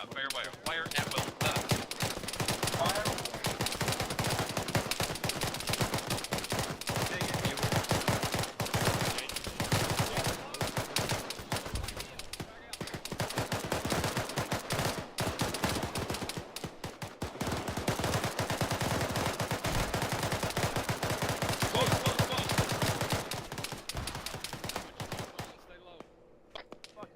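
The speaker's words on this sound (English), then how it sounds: "Go ahead and fire on. Fire away. Fire at will." Sustained, dense automatic and rifle gunfire from a military shooter game, loud and continuous rapid bursts overlapping for nearly the whole stretch, with voices faintly mixed in.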